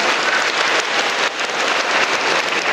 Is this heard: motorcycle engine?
no